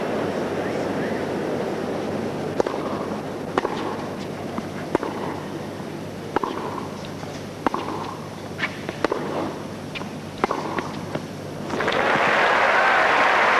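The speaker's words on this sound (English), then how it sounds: "Applause and a few wolf whistles, but she's used to that." A tennis crowd at a women's match claps in scattered bursts, with a few sharp whistles standing out, before a swell of fuller applause near the end; a commentator talks over it.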